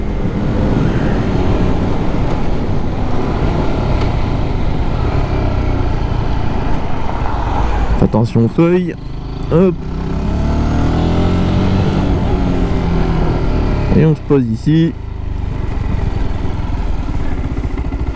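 A Zontes Roadster 125 motorcycle rides along steadily with engine and wind noise, then slows with a few engine note changes before settling to an idle near the end; a rider speaks briefly.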